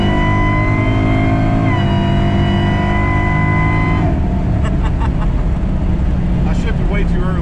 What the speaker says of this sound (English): this car is moving, spinning the tires